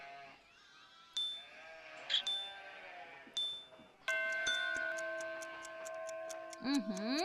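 Repeated sheep bleats in an animated children's cartoon episode, set among steady musical tones and ticking, with a voice briefly joining near the end.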